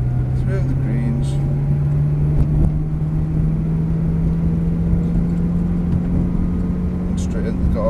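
Ferrari 360 driven through a cone course, a steady engine drone with slowly rising pitch under continuous talking from an instructor.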